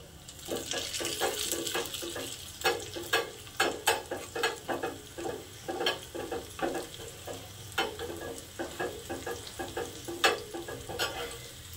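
Tempering spices with a pinch of Kashmiri chilli powder crackle in a hot pan, with bursts of sharp pops and a spoon scraping and stirring in an irregular rhythm over a low sizzle, close by and moderately loud, without talk.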